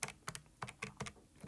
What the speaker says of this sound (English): Typing that on our calculator